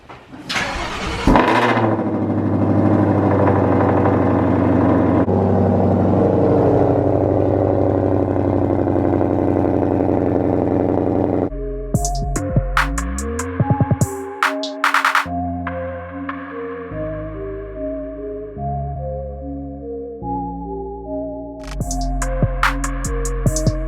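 Cold start of a 2020 Shelby GT500: the starter catches into a loud, sustained high-revving roar that holds steady for several seconds, then cuts to quieter idle with brief throttle blips and a shifting engine note, close up.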